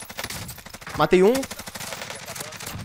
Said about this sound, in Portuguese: os de cima vai ouvir nosso tiro